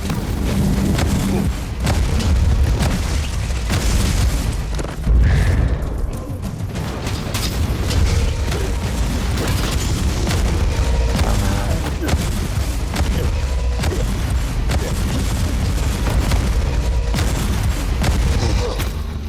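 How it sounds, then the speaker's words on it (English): Heavy hammer strikes and explosions from combat in the Warhammer 40000: Inquisitor - Martyr video game, a dense, continuous barrage of booming impacts and blasts running throughout at steady high loudness, with speech mixed in. "But who doesn't love just swinging a big hammer and watching things explode?"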